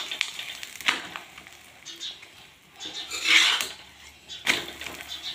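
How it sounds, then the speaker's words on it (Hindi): Paratha frying in desi ghee in a pan, a soft sizzle with scraping and rubbing sounds as it is turned and pressed, swelling in the middle and near the end. "पूरा पराठा, बहुत ही बढ़िया सेकना है घी के अंदर"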